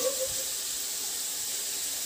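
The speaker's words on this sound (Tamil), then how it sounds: "பொரியுது வெங்காயம். வெங்காயம் பொரியுது." Onions for onion chutney frying in a pan, giving a steady, even sizzling hiss that holds throughout with no break.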